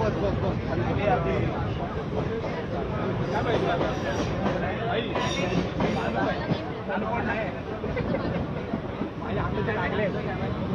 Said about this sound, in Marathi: राज ठाकरे यांचा हा लोकलनं प्रवास सुरू झालेला आहे।